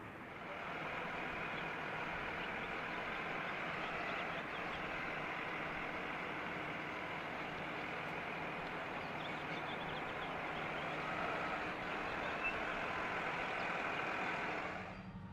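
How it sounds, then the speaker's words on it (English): Santa Cruz & Monterey Bay Railway locomotive 89 shoving its cars into a siding on a runaround track, with a steady engine drone that holds at moderate distance throughout. "The 89 will continue to the other end of the runaround track, where it will shove its cars into the siding"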